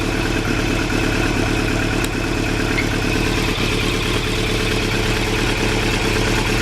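A motorcycle engine idles steadily right after a ride, a loud, continuous, close throb that holds even with no revving and no voices.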